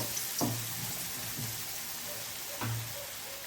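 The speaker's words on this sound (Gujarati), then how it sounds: "આવી રીતે આપણે બધા ભજીયા અવળીના તળી લઈશું" Khakhariya bhajiya made with avli leaves fry in hot oil, giving a continuous close sizzle with a few brief splashes and pops as pieces go into the oil, with no talking.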